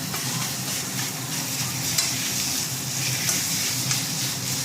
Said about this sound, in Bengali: আমি ওর মধ্যে দিয়ে এবারে এটা ভেজে নিই, একটু নাড়াচাড়া করলেই হয়ে যাবে